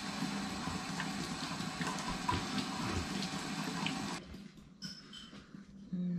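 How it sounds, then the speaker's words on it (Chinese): A kitchen tap runs steadily while food is rinsed under it, a constant hiss of water with faint splashing that cuts out near the end, leaving quiet handling sounds. "我先把它洗一下。"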